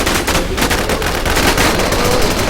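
Gunfire from the online survival shooter game WarZ, with dense rapid automatic shots forming a loud, continuous burst that fills the whole span and carries no clear talking.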